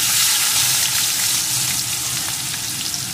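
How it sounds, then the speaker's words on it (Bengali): Chopped onion frying in oil with spices, giving a loud, dense, continuous sizzle and crackle that stays steady close up throughout. "পেঁয়াজ কুচিটাকে একটু লাল লাল করে ভেজে নেব"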